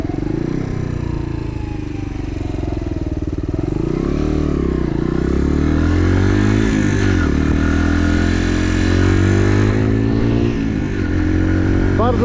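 A Chinese supermoto motorcycle with a Suzuki engine revs loudly and close, the pitch rising and falling through several throttle blips over a steady idle, with some clatter mixed in.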